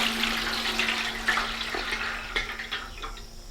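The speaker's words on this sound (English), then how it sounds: "all I'm going to do is go ahead and rinse it here" Almonds rinsed under running water, a steady close rush of tap water with splashes as the nuts are moved.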